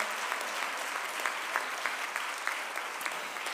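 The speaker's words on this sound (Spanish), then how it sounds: "dale fuerte el aplauso al Señor" A congregation at a graduation address for a church training school claps for the Lord, a steady, moderately distant roll of applause with a few sharper individual claps standing out.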